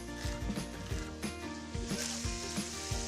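Chorizo sizzles in a pan while a spoon breaks it into small pieces. A steady crackling fry runs under rhythmic scraping and tapping of the spoon against the pan.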